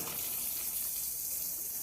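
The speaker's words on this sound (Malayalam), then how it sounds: "അപ്പം വെള്ളം വീഴാൻ തുടങ്ങിയിട്ടുണ്ട്" Water pours steadily onto a water wheel at an aquaponics fish pond, a continuous near rushing splash with no voices.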